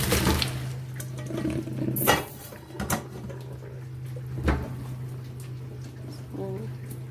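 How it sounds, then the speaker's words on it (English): Cooked pasta and its water pour into a colander in a sink, a splashing gush with a few louder surges and clatters over a steady low kitchen hum. "the pasta is cooked. Transfer it in the colander."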